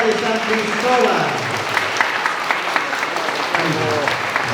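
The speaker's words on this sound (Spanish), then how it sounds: "vamos a dar palmas muy fuertes para el Señor de San Cristóbal" A festival crowd claps loudly for the Señor de San Cristóbal during a 2023 patronal fiesta, with steady applause running under a man's speech.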